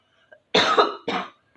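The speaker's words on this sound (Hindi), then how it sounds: "मेरे को थोड़ा दिन से खांसी हो रही थी, लाइक मेरे को थोड़ा सा कफ एंड कोल्ड है।" A person with a cold and phlegm lets out two close, loud coughs, a short faint throat sound before them, alone without talk.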